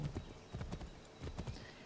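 Hooves from a galloping horse in Assassin's Creed 3 beat in a steady, rapid clip-clop rhythm, quiet and somewhat distant, with no voices over them.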